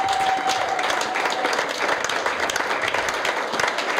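A church congregation applauds steadily, a dense wash of clapping hands that fills a large room at moderate loudness for the whole stretch.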